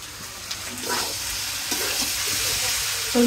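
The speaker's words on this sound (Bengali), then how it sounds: "আমার মাংস কষানো হয়ে গেছে, এখন ভেজে দিলাম।" Meat sizzles in a pan of oil while being stirred, with scraping strokes and bursts of frying that rise and fall, fairly close and moderately loud, ending in a sharper clatter.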